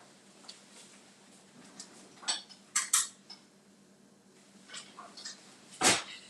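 Half-teaspoon measuring spoon clinking as it is pulled out in a home kitchen while making Denver omelet egg muffins, a few light metallic clinks and taps scattered over quiet room tone, one sharper clink near the end.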